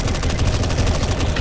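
Continuous loud rapid-fire gunfire in CS:GO as players shoot at a boss, a steady rattling stream of shots with no pause.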